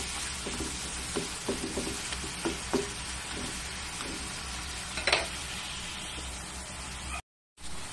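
Tomatoes sauté in a hot pan with a steady sizzle, broken by several soft scraping knocks as they are stirred, close and fairly quiet.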